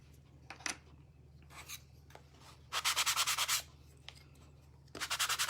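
Hand sanding of small laser-cut maple wood pieces, with quick rhythmic rubbing strokes in bursts, a steady run of rapid scrapes in the middle and another at the end, close and fairly quiet.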